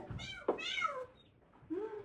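A cat meows a few times up close in short, rising and falling calls with a brief pause between them, fairly soft.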